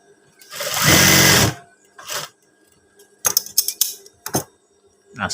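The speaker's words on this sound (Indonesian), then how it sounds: "Yang satunya juga kita jahit bibir saku yang bawah sama kain saku" A sewing machine runs in one long burst as it stitches a pocket lining, followed by several shorter, clattering stops and starts close by, with no talk.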